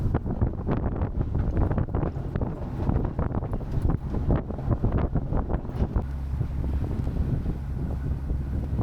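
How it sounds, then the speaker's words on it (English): Strong wind roars across the microphone on a sailboat heading almost straight into the wind, with a sail flapping wildly in dense, irregular bursts; the buffeting is loud and continuous, settling into a steadier rumble near the end, with no talking. "we had almost wind on our nose. The sail was flapping wildly"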